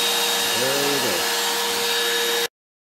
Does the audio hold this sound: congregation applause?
no